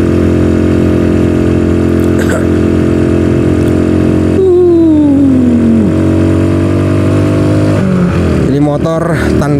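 Self-built motorcycle engine pulling in second gear on a mountain road before dawn, a loud steady drone with rising and falling engine pitch as it revs, with someone talking over it.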